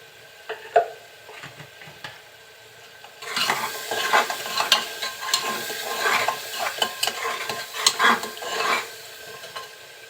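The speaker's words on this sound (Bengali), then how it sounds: "সব মশলাগুলো একটু কষিয়ে নিয়েছি।" Spice masala with cumin powder being stir-fried in a pan, quiet at first, then a busy sizzle with repeated scraping and stirring strokes of a spatula, close up.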